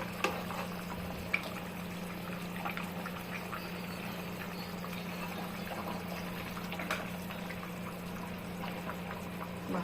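Fish curry with chillies simmering in a pot of light katla fish broth, a steady soft bubbling hiss with a constant hum beneath and occasional small pops, close and fairly quiet.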